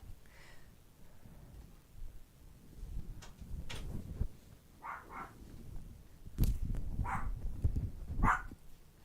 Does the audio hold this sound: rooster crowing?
no